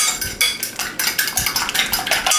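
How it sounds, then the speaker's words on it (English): A fork beats eggs lightly in a bowl, giving quick rhythmic clinking taps of metal on the bowl, close and steady with no talk. "I'm going to just beat the eggs"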